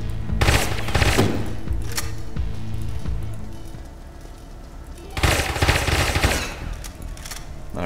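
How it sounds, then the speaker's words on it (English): Gunfire in the video game Satellite Reign: rapid bursts of automatic shots, a dense volley at the start and another after a brief lull, loud over a continuous game background. "I need to shoot it out again."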